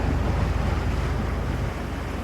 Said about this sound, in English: swirling currents yanking the boat around.